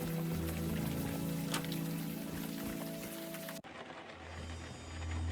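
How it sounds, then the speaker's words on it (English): Steady rain pattering close by in a point-and-click video game, a constant hiss of drops that cuts abruptly partway through to a duller, muffled rain ambience with a low hum. "Now let's get out of the rain."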